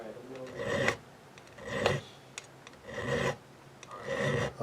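A StewMac fret file rasps along the fret edges and over the fret tops of a Steinberger Spirit guitar. Four separate scraping swipes arrive at an even, unhurried pace, close and fairly loud, with no talk.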